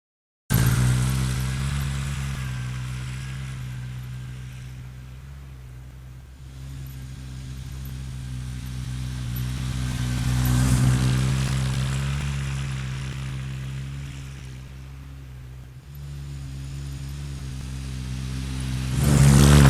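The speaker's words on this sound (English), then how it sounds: "let's get on the ATV and get cracking on that" ATV engine running steadily outdoors on a farm food plot, rising and falling as it revs up and eases off in slow waves, close and continuous throughout with no talk.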